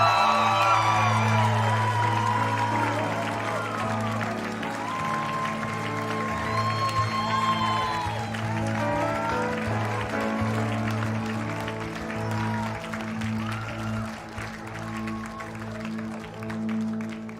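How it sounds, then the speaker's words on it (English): Family and friends at a 2025 academy graduation ceremony give a big round of applause for the graduating class, with sustained clapping, whoops and cheers from the crowd over steady music, the clapping and cheering gradually fading toward the end. "would you give please give a big round of applause for our 2025 graduating class"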